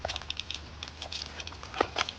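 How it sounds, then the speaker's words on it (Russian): Rain starting to fall near Chernobyl, light scattered pattering drops and faint crackles ticking irregularly over a low quiet background, with no talk. "Дождь начался."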